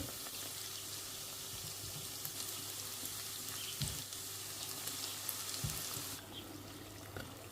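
Quiet, steady sizzling and crackling of Ukrainian Christmas doughnuts frying in hot oil, with a faint low hum and occasional soft knocks.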